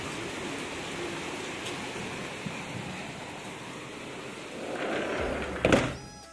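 Steady rain falls outside, a continuous soft hiss of drops throughout, with a brief louder knock near the end.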